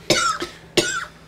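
Two sharp coughs from a person at a tabletop game session, the second following about half a second after the first, close and fairly loud with no talking over them.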